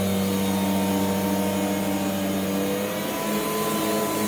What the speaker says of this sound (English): Yes, I vacuum everything very thoroughly.